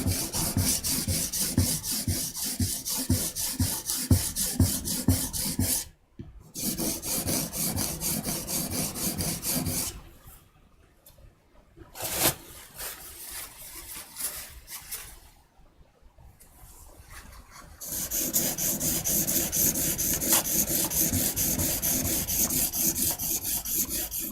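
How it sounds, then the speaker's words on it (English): A steel blade is stroked across a polishing stone for sharpening, producing a rapid, rhythmic gritty rasp that stops briefly, drops to quieter, sparser scraping for several seconds, then returns loud and steady. "The next step, the polishing, this is the one that just actually does the sharpening."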